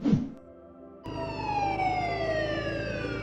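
An ambulance siren in the Minecraft video game wails with a steady, sliding tone that enters abruptly after a short burst and holds loud and close.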